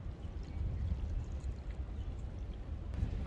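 Cold water is poured over imitation crab in a container for backpacking crab cakes, a continuous close gurgling splash throughout with no talking.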